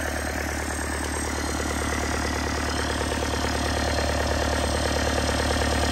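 Yanmar 4TNV98 turbocharged diesel engine from a cutting machine, running on a test stand with a steady, even idle clatter and low rumble throughout, no voices.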